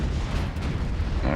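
A naval gun salvo booms in Ultimate Admiral: Dreadnoughts, a deep, heavy rumble filling the short clip at close range.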